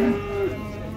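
A large cow at a livestock market lets out one short, low moo, close and clear against the background murmur.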